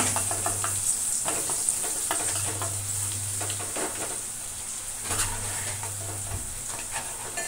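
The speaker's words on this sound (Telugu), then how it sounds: "ఇలా 2 మినిట్స్ ఫ్రై చేసుకుంటే చాలు కలుపుకుంటూ" Masala paste for stuffed brinjal curry frying in a pan, a continuous close sizzle broken by scraping, clattering stirs in bursts, with no one talking.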